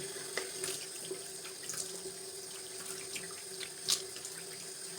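Tap water runs steadily into a sink while cleansing oil is rinsed off a face, a soft continuous flow with small splashes and a few louder splatters, close and fairly quiet, with no talk.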